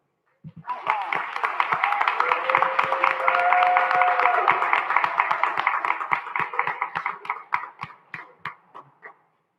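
A council meeting crowd applauds a youth championship team, a dense burst of many hands clapping that swells quickly, holds steady, then thins into scattered individual claps before fading out.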